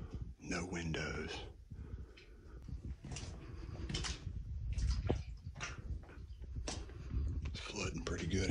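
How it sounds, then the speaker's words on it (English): Water running and dripping inside a flooded cell of an abandoned mental hospital with steel doors, splashing and trickling in bursts beneath close, hushed talk. "It's flooding pretty good in here. I'm gonna step in water."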